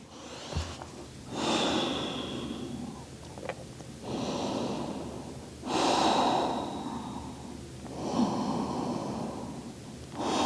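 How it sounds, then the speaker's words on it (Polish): Slow, deep breathing during a beginner yoga session, with long airy inhales and exhales alternating in a steady rhythm, close and audible with no talking. "i oddychamy."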